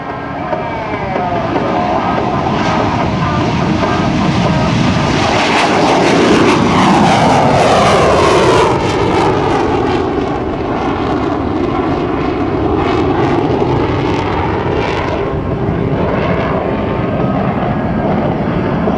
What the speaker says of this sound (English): He's going to be doing a dirty roll on takeoff here.